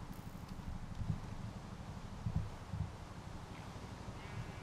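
Horse hooves clop in the Minecraft video game, several soft thuds spaced irregularly over a quiet, rustling background.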